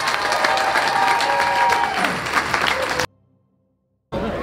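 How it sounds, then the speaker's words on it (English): A crowd at the March for the Babies rally applauds with dense, steady clapping and some cheering for about three seconds, then cuts abruptly to silence before noise briefly returns. "So a big round of applause to Bernie Finn"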